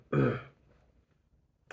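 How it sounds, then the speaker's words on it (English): A single loud, harsh throat-clearing cough near the microphone, followed by quiet room noise and a short faint sound at the end. "have a coughing fit in a second"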